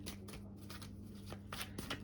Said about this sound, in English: I'm just shuffling them off camera